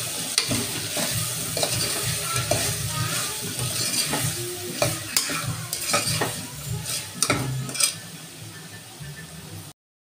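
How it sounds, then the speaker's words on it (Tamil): A spoon stirs biryani masala and chilli powder through vegetables in a frying pan for veg biryani, rhythmic scraping and clanks over a close sizzle, ending abruptly. "இப்போ நல்லா கிளறி"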